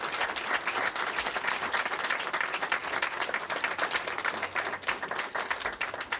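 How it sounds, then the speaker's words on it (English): Sustained crowd applause greets family members at a memorial mural dedication at the Dart Library. Steady, dense clapping from many hands fills the whole stretch, at a moderate distance. "let's give everybody and the family members a big round of applause for this resolution"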